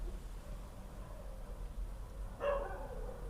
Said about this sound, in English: the dogs are teaming up and they're barking